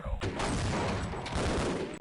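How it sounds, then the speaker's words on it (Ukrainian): Javelin weapons firing in a video game, a sudden loud blast followed by a dense burst of crackling explosive impacts, close and continuous for about two seconds. "Ганида, стріляє в мене зі своїх джавелінів."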